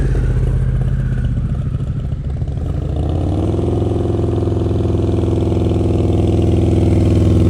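A motorcycle engine close by during a riding lesson, idling roughly and then climbing into a steadier, stronger drone that holds to the end.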